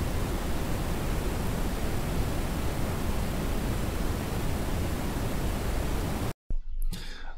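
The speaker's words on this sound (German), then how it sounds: "Und das Interessante nochmal beim braunen Rauschen oder eigentlich beim Red, also beim roten Rauschen, beim Brownian Noise" A brown (red) noise sample demonstrated in a lesson on noise colours in music: a dense, even, low-weighted rushing hiss runs steadily for about six seconds, then cuts off abruptly into near silence with a brief faint sound.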